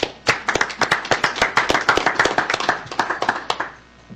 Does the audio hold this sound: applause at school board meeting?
yes